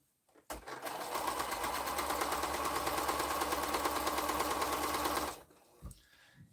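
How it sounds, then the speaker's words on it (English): Close by, a sewing machine runs steadily for about five seconds down a quilt block seam, a dense rapid needle chatter over a motor hum, starting and stopping cleanly with quiet surroundings either side. "we're going to sew it right down that seam"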